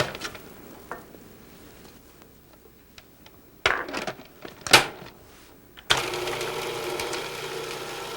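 Food processor with a metal blade mincing parsley, quiet clicks and short whirring bursts that end in a loud, steady motor whir running to the close.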